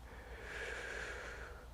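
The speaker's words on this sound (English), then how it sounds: "there come the sniffles" Sniffling and heavy breathing through the nose after eating a hot pepper, close and continuous, with a faint background hum.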